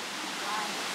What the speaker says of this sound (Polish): No i docieramy do wodospadu, gdzie będziemy tutaj pływać.